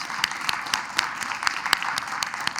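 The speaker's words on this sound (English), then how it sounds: "Let's give them a round of applause." An audience at a township annual town meeting applauds steadily, a dense patter of many hands clapping at moderate loudness with no voices over it.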